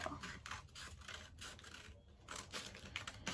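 Paper being cut with scissors for a vision board, a string of close, dry snipping and rubbing strokes that comes in short bursts and keeps going for several seconds, with no talking.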